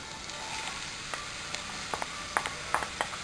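Turmeric and chili fry in oil with beetroot pieces as a spoon stirs, a soft, quiet sizzle with light scraping taps growing more frequent near the end, with no talk.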